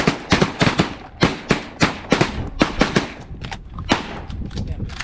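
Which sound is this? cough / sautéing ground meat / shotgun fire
shotgun fire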